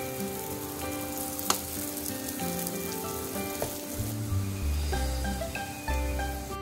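Glutinous rice cakes filled with red bean paste pan-fry in oil under a lid after being flipped, giving a steady close sizzle with a few sharp clicks and a louder, fuller crackle toward the end, with no talking.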